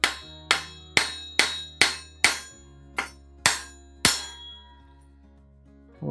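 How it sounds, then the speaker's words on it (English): Hammer striking a steel pin to drive it out of a 1970s bicycle crank, nine sharp ringing metallic blows, evenly spaced at first and then slowing, each clang decaying briefly, close and clear with nothing else heard. "here I've got my hammer and we'll just hammer it through"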